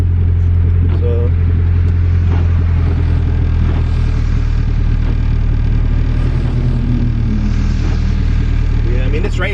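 A turbocharged Acura Integra with a B20V engine pulls in second gear on a wet, rainy street, its engine a loud steady droning rumble with rising tone throughout, close and continuous.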